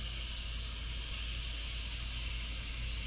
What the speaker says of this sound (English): Every time that little puff of steam comes out, you can smell it cooking.